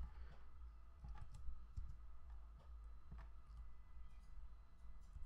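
Computer keyboard keys tapped while working in Blender 3D software, soft quick clicks in irregular bursts, close but quiet, with a low hum underneath.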